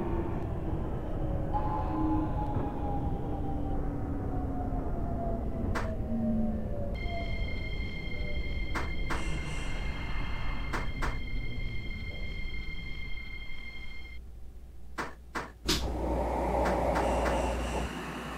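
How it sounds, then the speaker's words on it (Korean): Metro train in the OpenBVE simulator on CoolMetro Line 1, a steady rumbling hum with a descending tone, then chiming door-closing beeps and clunks before departure. "열차가 곧 출발합니다. 출입문 닫았습니다."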